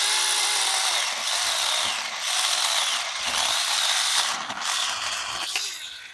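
A 24V mini chainsaw cuts through a dry hardwood branch, a close, loud, high-pitched motor whine that holds steady, with the pitch dipping briefly several times as the chain bites into the wood.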